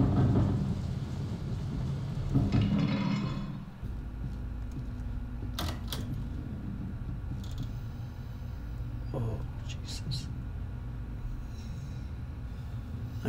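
Low, rolling thunder rumbles under steady rain in the video game Resident Evil 7: Biohazard, with a louder swell early on and scattered sharp clicks over the top.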